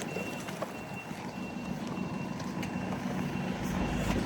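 Reversing beeps from a lorry sound as a steady run of evenly spaced high tones over loud roadside traffic and engine rumble, close by with no speech.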